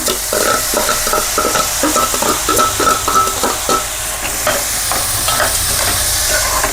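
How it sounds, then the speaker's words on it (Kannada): Cabbage stir-fried in a hot pan for egg fried rice gives a steady close sizzle broken by quick rhythmic scraping strokes of the spatula, with no voices. "ಈಗ ಎಲೆಕೋಸು ಹಾಕೋತಾ ಇದ್ದೀನಿ."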